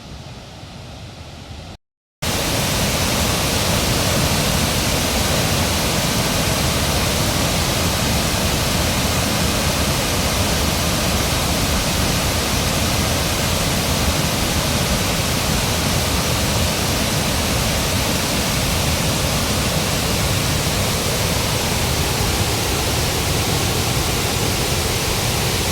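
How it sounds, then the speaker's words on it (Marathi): Loud, steady roar of a monsoon waterfall near an overflowing dam, heard close up as continuous broad rushing water that starts after a brief silent gap and holds for the rest of the clip. "फायनली आपण त्या वॉटरफॉलजवळ पोचलो आहे. आता तिकडे पुढे तो वॉटरफॉल आहे."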